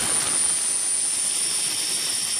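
Military helicopters flying over flood rescue operations in Sri Lanka, a steady, loud, broadband engine roar that holds level throughout with no pauses or talk.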